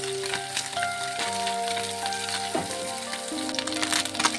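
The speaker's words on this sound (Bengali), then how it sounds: "মাছগুলিকে আগে ভেজে নেব, একটু কড়া করে ভাজবো।" Small marine moorola fish crisp-frying in mustard oil, with a continuous close sizzle, scattered pops and occasional stirring or turning noises, and no voices.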